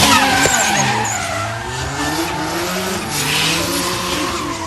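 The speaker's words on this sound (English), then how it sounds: "There's some drifting in a bit," A car drifts at a car show, tires squealing in a long, loud, wavering screech over a revving engine roar, sustained through the moment without any speech.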